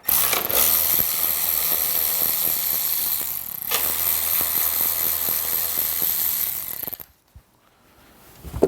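Mechanical clinking, ratcheting and rattling of tools removing 13mm bolts from a Harley-Davidson motorcycle battery tray, steady and close for about seven seconds before dropping to near silence, then a few faint clicks.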